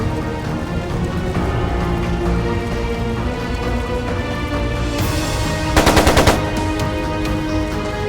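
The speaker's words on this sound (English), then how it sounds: "Sounded like a machine gun." Rapid machine gun fire from the video game Trails of Cold Steel 2, a tight burst of repeated cracks rising briefly over a dense orchestral score, with no talk.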